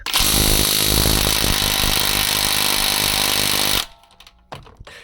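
A cheap AliExpress impact wrench whirs loudly and steadily for nearly four seconds, then stops abruptly, followed by faint handling noises.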